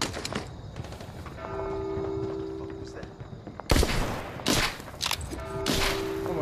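Gunfire in The Walking Dead: Saints & Sinners video game: a few sharp, loud bursts of shots that punch through a steady background drone, separated by short pauses.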